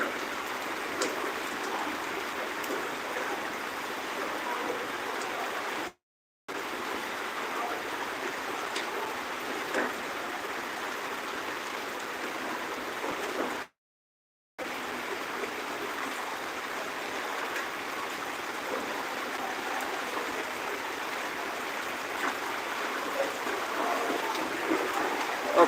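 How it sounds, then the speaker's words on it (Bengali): Heavy rain falling in a steady, dense hiss that continues throughout, moderately faint, with two brief silent gaps. "দেখতে দেখতে আরো প্রচুর পরিমাণে বৃষ্টি নামছে"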